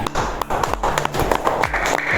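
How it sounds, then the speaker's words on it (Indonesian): Clapping from a class audience during an Indonesian teacher-training session, sharp claps repeating in a steady burst and mixed with voices and children's noise, fairly close and continuous for about two seconds. "Tepuk tangan."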